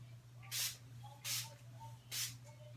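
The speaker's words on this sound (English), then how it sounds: "you're going to spray it in an X motion and then straight down" Three short hissing bursts of makeup setting spray, evenly spaced about three-quarters of a second apart, close by over a low steady hum.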